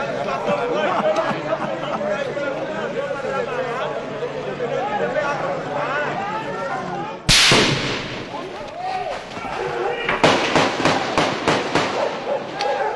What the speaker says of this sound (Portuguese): Por isso que você ouve uma saraivada de tiros.